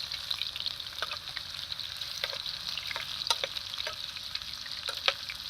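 Corned beef with carrots and potatoes sizzles and fries in a pan, a soft steady crackle with scattered sharper pops and stirring clicks, fairly quiet and close, with no talking.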